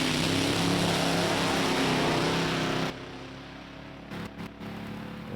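NHRA Division 3 drag race cars launch at Lucas Oil Raceway, a loud, dense engine roar holding steady for about three seconds before dropping away to a quieter, fading rumble with brief dips.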